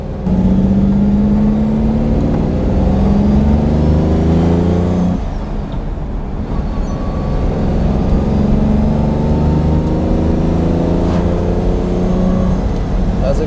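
A 1967 Lamborghini 400 GT 2+2 with its V12 engine revving while driving, a loud, close engine note climbing through the revs, dipping briefly between shifts, then building again and holding steady.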